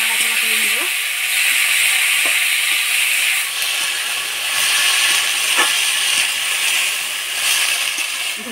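Dhenki greens with salt, turmeric and green chilli being stirred in a hot frying pan, a steady sizzle and hiss with a few faint scraping taps, continuous and close.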